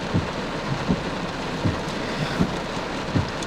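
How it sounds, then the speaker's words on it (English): Steady rain pours outside, a continuous hiss with soft, irregular low thumps every second or so, no voices. "I'm also getting really distracted by this rain."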